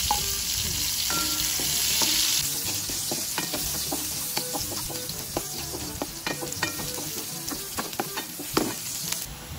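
Onion and ginger sauté in a pan for duck adobo in coconut milk. A strong steady sizzle runs throughout, broken by many sharp clinks and scrapes of a spatula stirring.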